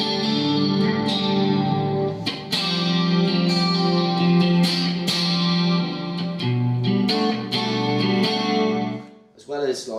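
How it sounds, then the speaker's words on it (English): An electric guitar played through a Marshall Code amp with compressor, modulation, delay and reverb gives a big, lush, chorused and echoing tone, with sustained chords and notes ringing loud and close throughout. "So I've got a compressor, modulation, delay and reverb. So that gives you that sort of real big processed sound."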